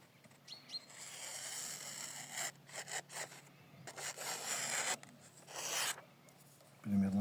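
A Yakut knife with a 9KhF steel blade slices through newspaper, making close, papery rasping swishes and scratchy cuts in several strokes, quiet overall, ending with a brief thump.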